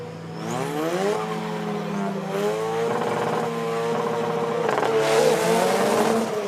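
A race buggy engine at the Race of Champions in Mexico is held on the rev limiter at the start, giving a loud, sustained, stuttering high-rev drone. Several engines blare together and rise slightly toward the end.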